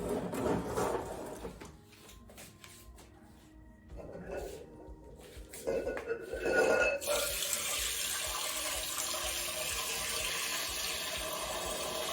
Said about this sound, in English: I just added water